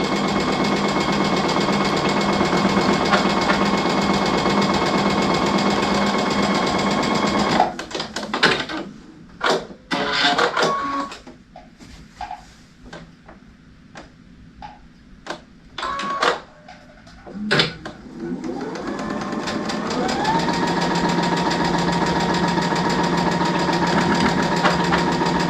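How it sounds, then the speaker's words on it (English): A sewing machine stitching a quilt block seam a quarter inch from a drawn line runs in a steady close whir, pauses for several seconds of small clicks and handling noises, then starts running again. "Just now sew a 1/4 inch from the draw line."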